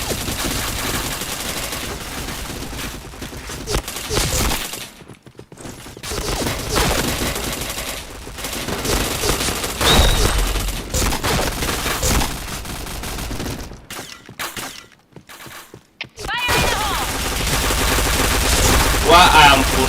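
Rapid automatic gunfire from the online shooter PointBlank, loud bursts of fusillade with brief pauses, a voice speaking now and then over the shots.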